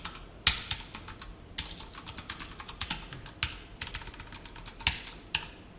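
Computer keyboard typing during a Java coding session, a steady run of light, quick clicks with occasional louder key strikes, close and alone.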